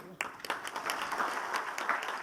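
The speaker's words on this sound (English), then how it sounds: "with a loud and enthusiastic applause, let us welcome our chief guest for the day" An audience at a school safety leadership event applauds to welcome the chief guest, with scattered then fuller clapping and a voice speaking over it.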